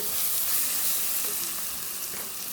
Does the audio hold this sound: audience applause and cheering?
no